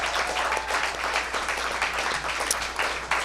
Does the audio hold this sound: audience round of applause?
yes